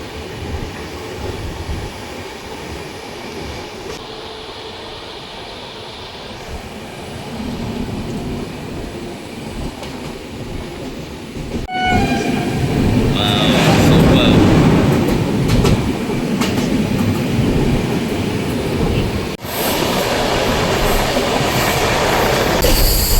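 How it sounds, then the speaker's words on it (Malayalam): A train roars fast through Munroe Island railway station in Kerala without stopping, building from a distant rumble to a loud, close rush of wheels with squeals and rattling, fading slightly near the end. "ട്രെയിൻ വളരെ ഫാസ്റ്റായിട്ട് തന്നെ ഇവിടെ നിന്ന് പൊയ്ക്കൊണ്ടിരിക്കുകയാണ്"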